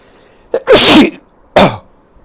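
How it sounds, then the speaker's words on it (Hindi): A person gives a single loud, close sneeze with a sharp intake of breath before it and a second short burst after, in an otherwise quiet room. "मुझे छींक आ गई थी"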